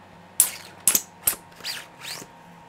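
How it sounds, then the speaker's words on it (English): A 3D-printed collapsible lightsaber slides out in five quick, sharp plastic clicks, each segment snapping into place in a close, crisp rattle with no talking. "you can have a full-on little lightsaber that slides out"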